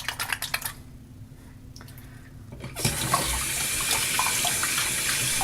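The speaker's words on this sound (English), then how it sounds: "Alright, rinse my hands off real quick." A bathroom tap runs as hands are rinsed of slick tallow shaving-soap lather, starting as a close, steady rush of water about halfway through after a few soft splashes and taps.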